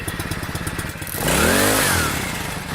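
A small outboard boat motor fitted with a new carburetor, sputtering in rapid uneven pulses before catching and running with a louder, steadier roar, close by with no talking.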